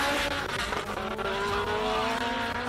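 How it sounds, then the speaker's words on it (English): A classic race car at the Simola hill climb roars loudly past, its engine note rising and sliding in pitch as it accelerates, with a hint of tyre squeal, close and continuous throughout. "we can hear that car right through our soundproof commentary box"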